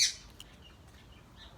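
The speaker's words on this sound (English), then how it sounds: "that's my other bird yelling in the background because she's like all jealous" A pet parrot squawks once sharply in the background of a quiet room, then a few faint softer chirps follow.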